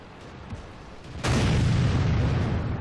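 A heavy tank cannon fires in the World of Tanks video game: one sudden, loud boom after a quiet lead-in, followed by a long, rumbling tail that fades slowly.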